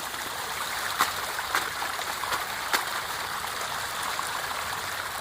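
Stream water flows close by at a mountaintop campsite in heavy rain, a steady rushing babble with a few sharp splashes or drips rising above it.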